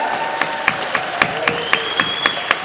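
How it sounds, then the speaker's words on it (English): An audience at a school election pep rally applauds the cheer team, steady clapping from a crowd with a few sharp, evenly spaced claps standing out near the front. "How about another round of applause for the cheer team right here?"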